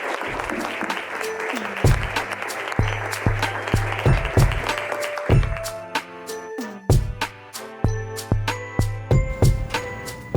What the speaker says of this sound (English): can we please give a really big round of applause?